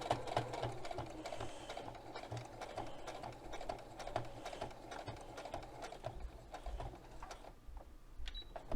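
A sewing machine stitches a potholder in a steady, fairly quiet run that continues through the whole stretch without pauses.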